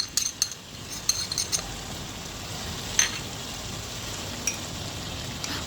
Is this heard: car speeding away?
no